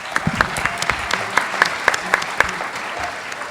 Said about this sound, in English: One more round of applause for Digby.